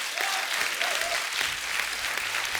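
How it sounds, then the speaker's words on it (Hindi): Steady applause from a comedy show's studio audience fills the whole stretch, a dense wash of clapping hands at even loudness. "इसके लिए तालियां बनती पहले तो"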